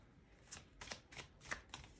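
A Tarot de Marseille deck being cut and shuffled, giving five or six crisp papery riffles and slaps in a quick, uneven rhythm, close and fairly quiet with no talk.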